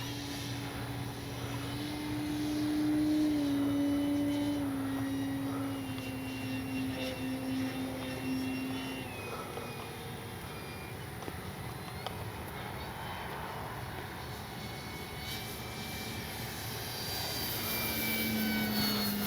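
A Flex Aviator 40E electric RC plane flies overhead with a steady motor whine that rises and falls in pitch as it maneuvers, moderately distant, with faint wind noise.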